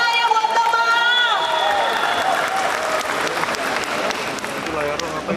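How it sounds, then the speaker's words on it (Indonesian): Audience applause and cheering at a Forkabi anniversary and Halal Bi Halal gathering, dense clapping with shouts running steadily throughout, loud and close, with voices mixed in. "Mana tepuk tangannya buat Bang Ma'ah."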